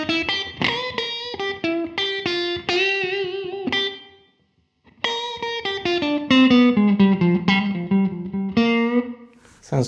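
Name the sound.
electric guitar with room reverb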